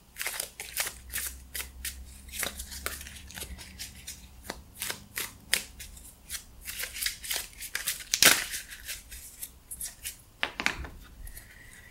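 Tarot cards shuffled by hand in a quiet room, giving a steady run of close, crisp riffles and flicks with soft rubbing between them and one brief sharp snap partway through.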